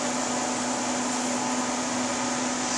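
An induction burner hums under a saucepan of butter, giving a constant, even whine with a steady tone and airy hiss throughout, close and unbroken, with no voices.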